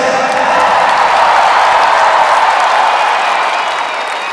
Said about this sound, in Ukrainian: Проважаємо Надю оплесками.